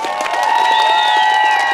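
Audience at a lezginka dance contest during a cheese festival in Adygeysk, cheering and clapping loudly for a couple of seconds amid shrill whistles and shouts.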